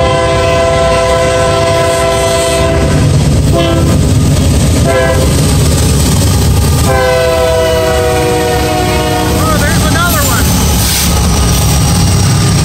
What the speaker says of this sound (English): Casey, looks like they got three locomotives.